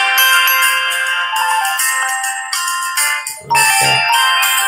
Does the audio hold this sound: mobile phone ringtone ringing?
yes